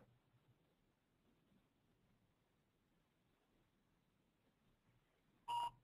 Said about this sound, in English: So there was a beep. Hopefully you guys heard the beep.